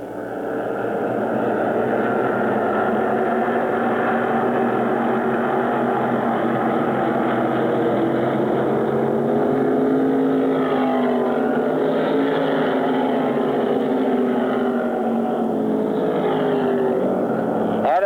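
Sportsman race cars lapping Lancaster track during a feature race, a continuous loud drone of engines rising and falling as cars pass, steady throughout with no pauses.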